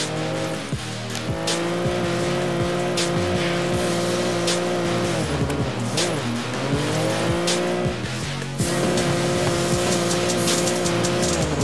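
Car drifting in an Android racing video game, a steady loud engine drone under continuous tire squeal, with a brief dip in the middle before the screeching slide picks up again.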